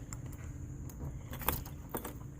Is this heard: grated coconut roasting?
no